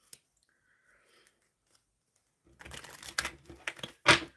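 A tarot love deck being shuffled: near-silence with a few faint ticks, then a burst of close papery riffling and crinkly card shuffling in the last couple of seconds, ending in a sharp flurry.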